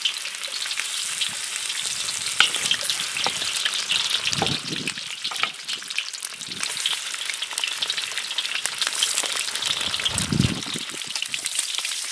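Pork rinds fry in a pan with a little hot oil, giving a steady, dense crackling sizzle throughout, with a few low knocks and stirring thumps near the middle and end.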